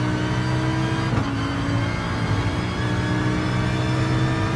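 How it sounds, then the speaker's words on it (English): Lamborghini Huracan GT3 race car at wide open throttle around Brands Hatch in Gran Turismo Sport, a steady loud engine drone holding high revs with a brief shift-like dip early on, close and continuous with no talking. "Really trying to get wide open throttle just on that white line."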